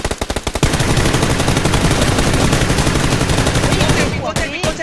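Rapid automatic gunfire in the battle royale shooter PUBG, a long sustained burst of loud close shots in a fast regular rhythm, preceded and followed by a few separate shots, with players talking over it.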